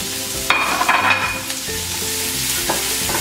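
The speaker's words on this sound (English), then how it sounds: "I just want to cook the onions until they get nice and soft" Chopped onions sizzling in hot oil in a pan for a South Indian prawn masala curry, with a steady fry hiss and a few clattering stirs of a spoon against the pan, close by with no talk.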